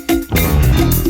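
A short excerpt from the intro of a song plays loud and full, with a driving bass and funk instrumentation pulsing under a strong groove.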